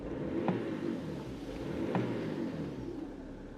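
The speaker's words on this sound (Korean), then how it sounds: "웅웅웅웅 했던 필링은 이제 없어지고 정상적인 엔진음이 나고 있어요" A BMW X6 (E71) diesel engine hums steadily and rises slightly under acceleration, heard from inside the vehicle as a continuous low drone with faint road noise.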